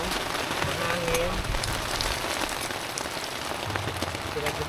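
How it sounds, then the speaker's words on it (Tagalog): Steady rain patters on surfaces nearby at a campsite in Anda, Pangasinan, a dense constant hiss with a faint voice briefly in the background. "So, it actually is raining."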